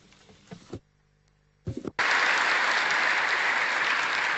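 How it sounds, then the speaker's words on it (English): Audience applause at the Nestlé annual general meeting, starting abruptly and continuing as sustained, dense clapping from a large seated crowd after a few brief sounds. "Thank you for this applause and expression of thanks for our employees."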